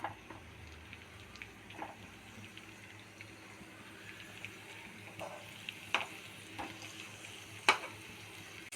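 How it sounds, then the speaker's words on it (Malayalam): Coconut oil sizzles in a pan on a stovetop while something fries, a quiet, steady crackle with occasional pops and faint clinks, no one talking. "അടുപ്പത്ത് പാൻ വെച്ചിട്ട് അതിൽ കുറച്ച് വെളിച്ചെണ്ണ വീത്തിയിട്ടുണ്ട്. അത് നമുക്ക് ഇത് ഫ്രൈ ആക്കാനായിട്ട് വയ്ക്കാം."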